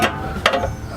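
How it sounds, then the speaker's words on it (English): Wrench ratcheting briefly while loosening an oxygen sensor on a Mercedes SLK230, giving a few close, short mechanical clicks and bursts within one second. "Let's see if I can get this wrench on there."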